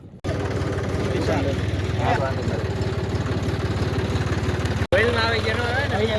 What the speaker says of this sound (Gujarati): આવી ગયું છે ટ્રેક્ટર હા જો ટ્રેક્ટર આવી ગયું છે બરોબર